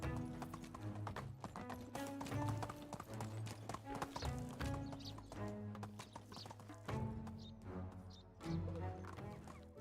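Horse hooves clip-clopping in a medieval village game, a rhythmic run of steps under lively talk, with a brief neigh and background music.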